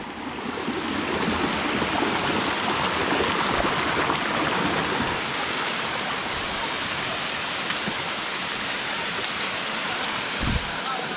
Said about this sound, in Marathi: हे धबधब्याचं पाणी येतं आहे बघा